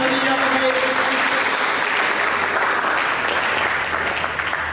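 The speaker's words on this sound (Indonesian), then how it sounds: "Mari kita berikan tepuk tangan yang meriah bagi Yesus Kristus" A church congregation bursts into loud, sustained applause for Jesus Christ, a dense wash of clapping from many hands that holds steady throughout, with voices faintly mixed in.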